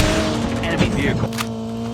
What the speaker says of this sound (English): Enemy vehicle.